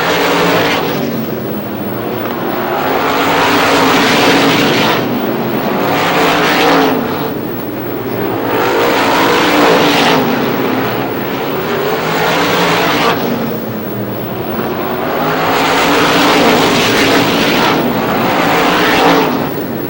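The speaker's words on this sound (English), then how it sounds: "Richardson in the Napa number 85, zeroes in on your third place car, the 61 Junior for Brian West" Race cars at Star Speedway in New Hampshire roaring past in repeated waves, each pass swelling loud then fading every few seconds as the pack laps the oval.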